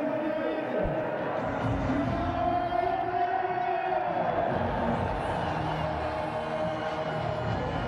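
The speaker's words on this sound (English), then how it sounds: "Celebration in the crowd for the Zalmi supporters." Peshawar Zalmi supporters cheer and roar in a packed stadium crowd at a PSL cricket match, a steady wash of distant voices with a commentator talking over it.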